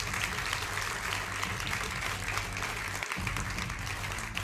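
Studio audience on a televised debate show applauds in a continuous dense wash of clapping, moderately loud, with a low hum beneath and a brief dip partway through.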